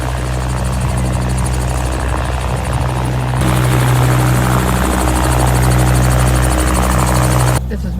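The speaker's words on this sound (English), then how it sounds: "We're in a helicopter. Outside of Seattle." A helicopter flies near Seattle, heard from inside the cabin as a loud, constant rotor and engine drone that grows slightly louder partway through, with no talk over it.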